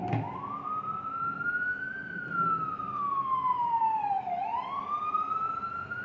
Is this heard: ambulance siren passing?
yes